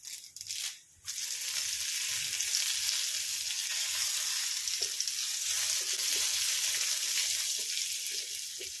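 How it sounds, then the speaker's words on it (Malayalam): Loud, steady sizzle of curry leaves crackling in hot oil over a low flame, starting after a brief burst near the start and continuing without a break. "ഇത് അതിലേക്ക് ഈ കറിവേപ്പില ഇടാം"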